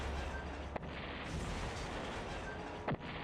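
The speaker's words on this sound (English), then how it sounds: "now we might be able to do a bit of an airstrike in there" Airstrike explosions slamming into enemy tanks in the strategy game Shadow Empire, heard as two sharp distant booms about two seconds apart over a steady rumbling battle bed.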